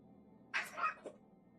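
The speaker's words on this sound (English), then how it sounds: "Cats are fighting." Cats fighting in the video game The Sinking City: a short, faint yowl with a rising, strained cry and a brief second squeal over quiet background hum.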